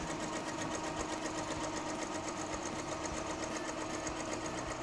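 An embroidery machine stitches overlays for horse halters, several pieces clamped at once. It makes a loud, constant, rapid mechanical chatter that holds steady throughout with no pauses or voices.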